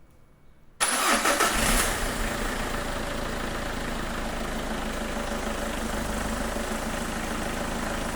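A car that has sat unused is jump-started from a booster battery. The starter cranks briefly, then the engine catches and settles into a steady, close idle.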